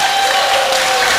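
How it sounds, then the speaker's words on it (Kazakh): Loud, dense applause from a crowd at a circumcision celebration, cheering the team that performed a lezginka dance, a brief continuous burst of clapping. "Лезгинкаға ойнағанға қол шапалақ болсын."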